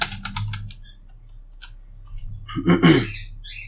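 Quick clicking keystrokes typed on a computer keyboard while entering a package name, a short flurry at first, then a denser, louder burst near the end over a quiet room.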